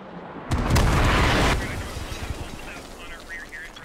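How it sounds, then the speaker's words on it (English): Artillery shells exploding in Squad, a sudden loud blast with a roaring, crackling rumble lasting about a second, then fading debris and scattered smaller pops. "Artillery is happening."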